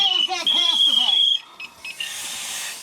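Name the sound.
PASS device alarm sounding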